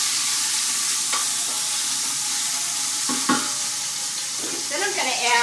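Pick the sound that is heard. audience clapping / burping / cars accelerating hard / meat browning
meat browning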